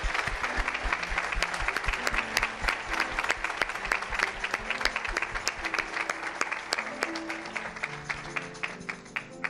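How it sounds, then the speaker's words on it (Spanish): A church congregation applauds, a dense patter of many hands clapping steadily throughout at moderate loudness. "Can you give the specials an applause once again?"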